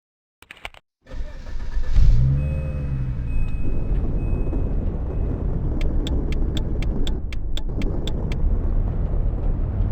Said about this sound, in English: Start your vehicle and take a right out of this parking lot.